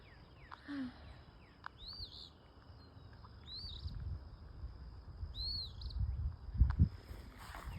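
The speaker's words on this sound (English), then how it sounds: "Bird." A few small birds chirp in a backyard, with three short repeated whistled calls over a faint insect hum and light low rumbling outdoors.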